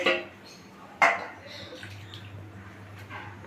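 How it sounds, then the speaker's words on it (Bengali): Chicken meat is tipped into a metal pot for a masala curry, giving a sharp clatter and thud at the start and another near one second, followed by a low steady hum, close and fairly quiet. "দেখুন এবারে মাংসটা আমি ঢেলে দিচ্ছি।"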